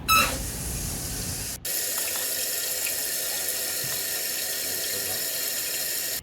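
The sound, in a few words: water refilling toilet tank after supply turned on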